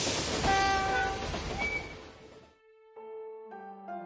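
A train runs in the video game Modern Tales: Age of Invention, first as a loud, broad rumbling rush, then settling into sustained steady whistle-like tones near the end, with no talking.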